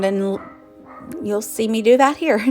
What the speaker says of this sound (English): Sorry about my dogs.